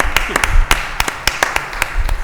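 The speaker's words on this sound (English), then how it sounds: "I'd like you to join me in giving him a round of applause." A small group in a city council chamber claps for a retiring city clerk, with a handful of sharp, uneven claps heard close and clear over a faint room hum.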